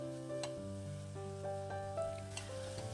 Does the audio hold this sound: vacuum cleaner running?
no